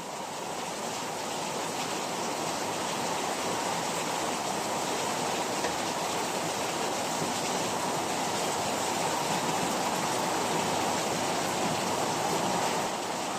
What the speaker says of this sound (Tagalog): Grabing lakas ang ulan.